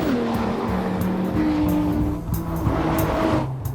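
An Aston Martin DB9 sports car driving, its engine note rising and falling through gear changes with a steady exhaust drone, close and loud, and faint tire noise.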